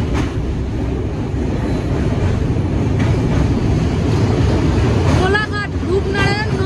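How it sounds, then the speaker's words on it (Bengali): Coromandel Express passenger train running after leaving Kharagpur, heard from inside a coach as a steady, loud rumble and rattle throughout, with faint voices near the end. "প্রায় 20 মিনিট পর ট্রেন ছাড়লো খড়গপুর থেকে।"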